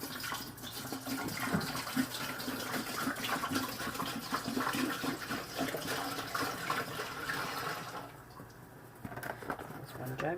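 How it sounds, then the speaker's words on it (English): A gallon of apple juice pouring from a jug into a cooking pot for apple pie moonshine, a steady close splashing gush running throughout, with faint background sounds. "let's start with a gallon of apple juice into"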